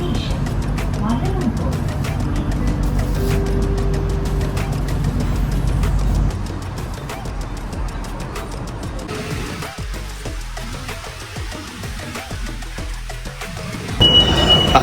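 A moving metro train in Kuala Lumpur rumbles steadily from inside the carriage, a low continuous drone that eases partway through before picking up again.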